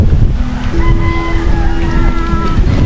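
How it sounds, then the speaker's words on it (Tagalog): Steady, blustery wind roars over the microphone alongside a droning boat motor, with a low rumble and buffeting throughout. "Yung napakalakas ng hangin."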